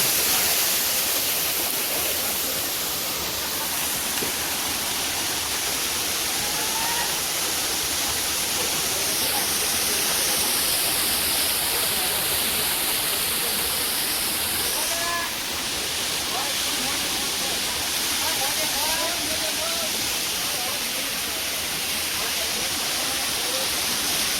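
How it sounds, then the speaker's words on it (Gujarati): The Jatashankar waterfall in the rain gives a loud, steady, close roar of falling water that fills the whole stretch without a break. "હાલો તો ભાઈ આપણે એના ધોધ ઉપર આવી ગયા ને"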